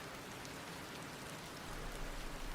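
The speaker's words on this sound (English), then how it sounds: "rain continues to fall" Steady rain falls continuously, a dense even hiss of drops that swells slightly louder toward the end, with no voices.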